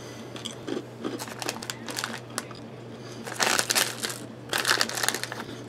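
Raspberry-flavoured crunchy M&M candies are bitten and chewed close to the microphone, giving repeated crisp crunches in irregular bursts that grow louder toward the end.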